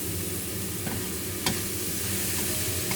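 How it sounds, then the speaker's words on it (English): Shanghai bok choy greens and minced pork stir-fried in a hot wok make a continuous close sizzle, with a couple of sharp spatula clinks and scrapes breaking through the steady hiss. "Stir fry until tender crisp."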